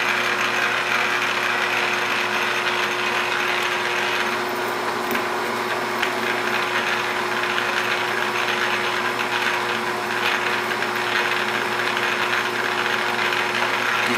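A Rockwell 21-100 lathe runs a spring pass while cutting a thread, giving a loud, steady mechanical whir and hum with a faint rattling texture that continues without a break.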